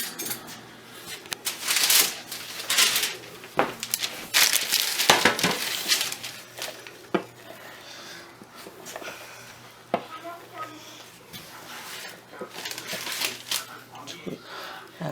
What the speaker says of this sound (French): on va couper ça en courtes pièces